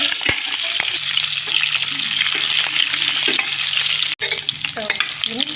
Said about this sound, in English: And then allow it to fry.